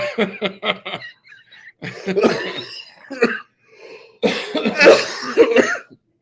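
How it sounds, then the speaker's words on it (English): Several people cough in harsh, close bursts, some rapid and clustered, mixed with throat clearing and a little strained laughter. "We're coughing like we snapped a bong hit"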